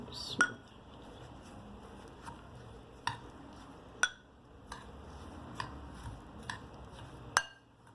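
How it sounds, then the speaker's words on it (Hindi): A spoon scrapes and clinks against a bowl while mixing butter and biscuits for a cheesecake base, with sharp irregular taps over a soft background, fairly quiet overall. "अब हमने इसको इसके अंदर डाल के तो अच्छे से मिक्स करना है"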